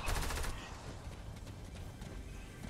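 Gunfire in the multiplayer shooter Fortnite comes through quietly: a dense burst of rapid shots at the start, then scattered fainter shots behind a steady background.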